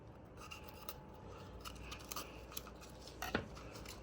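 A knife cuts around the white inner membrane of a bell pepper, giving soft, close scraping and snipping sounds in a quiet kitchen.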